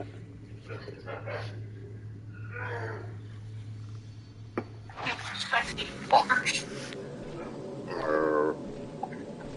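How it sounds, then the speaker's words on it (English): Mooing calls from the walking Metal Gear enemies in a horror video game, low bellowing cries surfacing amid game noise while people chat over them. "I'm calling them mooing Metal Gears."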